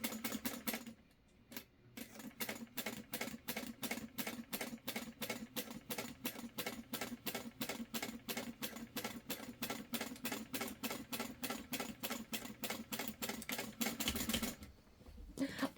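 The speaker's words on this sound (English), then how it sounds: "Let's see how straight of a line I can sew." A sewing machine runs a straight seam on a clutch wallet, its needle chattering in a fast, even, mechanical rhythm that starts after a brief pause and stops near the end.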